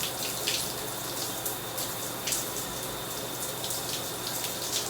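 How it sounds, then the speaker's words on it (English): Water runs steadily from a tap while starter locs are rinsed, a continuous broadband splashing hiss with small irregular spatters and no voices. "I'm gonna go ahead and rinse for a good 10 minutes or at least"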